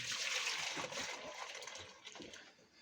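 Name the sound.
hand-milked goat milk poured into a saucepan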